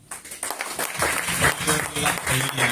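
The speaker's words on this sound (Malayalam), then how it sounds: "ഇന്ന് ആദ്യമായി വന്ന ആളുകൾക്ക് വേണ്ടി നിങ്ങൾ തന്നെ ഒരു കൈയടി കൊടുക്കണം" An audience in a hall breaks into sustained applause, a dense wash of clapping that rises quickly and holds steady for a few seconds with faint voices mixed in.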